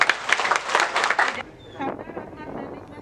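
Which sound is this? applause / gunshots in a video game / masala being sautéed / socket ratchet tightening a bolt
applause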